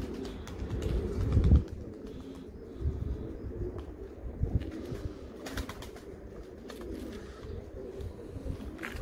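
Soft pigeon cooing and bird calls mixed with rustling and handling noise, low and close, without speech.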